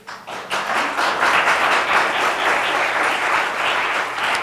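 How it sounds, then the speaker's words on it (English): Sustained audience applause at a city planning board meeting, honoring two neighborhood representatives; dense, steady clapping from many hands fills the room from start to finish, loud and even with no speech over it. "If you're going to applaud anybody, applaud those 2 right there."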